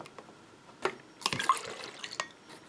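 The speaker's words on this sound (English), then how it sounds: "I'm going to add just a smidgen of water" Water trickles and drips into a container while a recipe is being mixed, a few short splashy bursts and pours amid light handling noise, close and fairly quiet, no talking.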